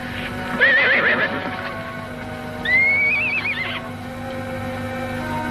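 Two loud, wavering horse whinnies a couple of seconds apart, with a steady low hum and faint background noise underneath.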